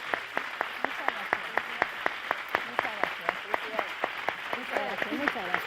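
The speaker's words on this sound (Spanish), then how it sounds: "gracias y un aplauso para ellos" A studio audience on the TV game show El tiempo es oro claps in a steady, rhythmic beat of sharp, evenly spaced hand claps. Voices talk over the clapping.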